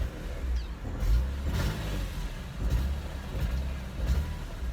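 A BMW Z4 M engine rumbles with a heavy exhaust note, revving up in a few surges over a steady low drone, close by with no talking.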